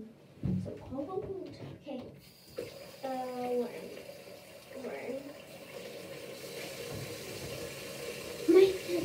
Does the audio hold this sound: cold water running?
yes